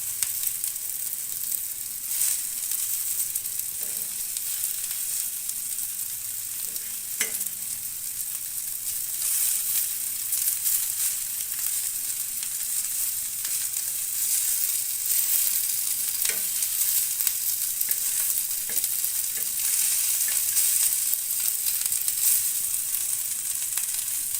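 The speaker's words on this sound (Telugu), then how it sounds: "ఇడ్లీ ముక్కలన్నీ లైట్ బ్రౌన్ కలర్ టైప్లో ఫ్రై చేసుకోవాలి." Idli pieces fry in hot oil until light brown, giving a steady, even sizzle for the full stretch. Occasional soft clicks of a stirring utensil break through the close, continuous crackle.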